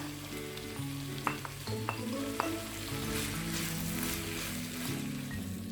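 Sliced onions land in a hot pan for a chicken jalfrezi and sizzle steadily with a dense crackle, a few sharp clicks of utensil contact near the start, and no talking.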